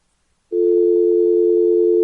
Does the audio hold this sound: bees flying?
no